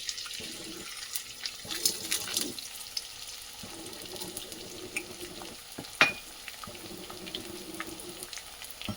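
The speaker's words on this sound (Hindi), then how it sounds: "इस तरह से हमारा ये भी गोंद भुन गया है" Edible gum (gond) roasts in a pan with a faint, soft sizzle, broken by occasional scraping and stirring clatters and a single sharper clink.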